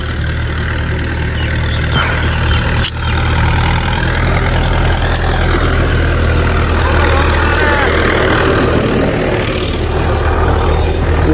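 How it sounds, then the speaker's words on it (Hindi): A tractor approaches and passes on a rural road while a Toyota Prado stands aside for it, a loud, steady, low engine rumble filling the whole stretch with no clear rise or fade. "आगे ट्रैक्टर आ रहा है।"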